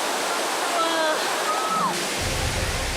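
Kulen waterfall in Cambodia, the source of the Siem Reap River, gives off a steady broad roar of falling water, with a low surge joining near the end and faint voices in the background.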